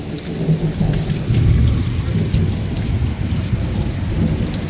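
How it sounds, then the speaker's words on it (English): Heavy rain pours steadily during an Arizona desert thunderstorm, a dense close hiss of drops with low rolling thunder rumbling underneath throughout. "It's raining."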